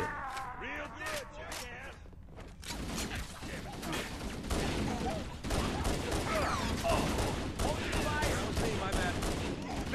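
Gunfire rattles in Halo CE, with repeated bursts and single shots against a busy battle backdrop of game sounds. A voice talks over the shooting.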